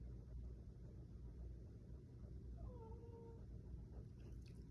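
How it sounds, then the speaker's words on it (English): Cats fuss as dinner time approaches: a single faint meow rises briefly over a constant low rumble, with no one speaking. "all of the cats are starting to fuss because it's almost dinner time."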